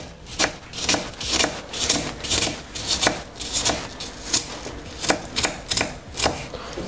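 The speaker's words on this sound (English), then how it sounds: "finally chop up some red onion" Knife chopping red onion on a board for a salad, a steady run of crisp, close taps in uneven bursts, with no voice over them.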